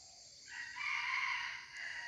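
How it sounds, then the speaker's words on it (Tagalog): A labuyo jungle rooster crows once at mid distance outdoors, a drawn-out harsh call rising and holding for over a second before trailing off, with no voices around it. "Kanina pa yung tumitilaok ang ating pangati"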